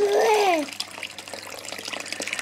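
A small decorative fountain bubbles and gurgles steadily at close range, its water churning continuously after a brief voice at the start.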